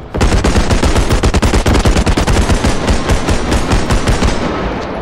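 Loud, sustained automatic gunfire in the realistic first-person shooter Bodycam, a fast unbroken stream of close shots rattling for several seconds with no talking.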